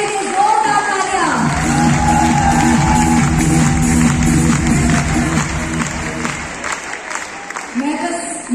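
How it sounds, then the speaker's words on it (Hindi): A packed crowd of around 8,000 at a Gamma Hero event gives loud, sustained applause with scattered cheers, a dense roar of clapping that carries on for several seconds while voices shout through it. "सबके लिए जोरदार तालियां"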